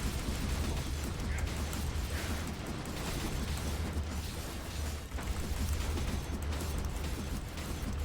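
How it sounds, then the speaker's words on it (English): Dense, continuous explosions and bursting impacts from the action game Skul: The Hero Slayer, a relentless barrage of projectile hits layered into a steady, loud roar with no clear gaps for the full stretch. "Just an explosion of constant, like, damage."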